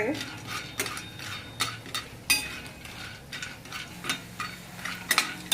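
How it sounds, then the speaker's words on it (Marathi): Sandge lentil dumplings roasting in a little oil in a pan, stirred continually; quiet sizzle beneath irregular clinks and scrapes of a spoon against the metal, close but soft. "हे असे आपल्याला टाकल्यानंतर सारखे हलवत जायचे म्हणजे चौकडून चांगले भाजतात बघा"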